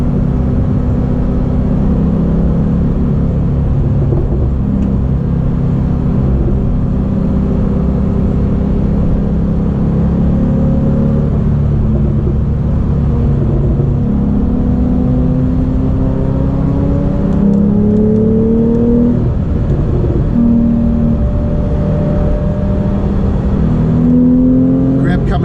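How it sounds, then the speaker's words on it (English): A Porsche 911's rear engine drones loud from inside the car as revs climb toward redline in third gear, the pitch rising steadily before a shift, with faint talk beneath the engine noise. "I just love hearing the sound at the top of third gear. It makes this great howl just before a red line."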